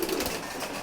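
Pigeons cooing softly at feeding time, some fed separately on a raised spot; a faint, steady murmur of low calls with no talk.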